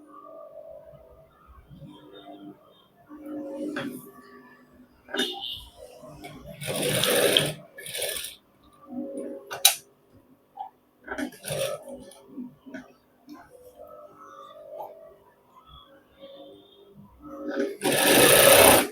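A sewing machine stitches a shirt seam in short bursts of whirring, with pauses between runs and louder passes near the end, while a person speaks quietly in between.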